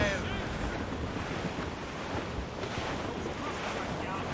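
Wind rushes and ocean waves surge around a sailing ship at sea in Assassin's Creed Rogue, a dense, continuous roar of gusts and breaking water at steady loudness.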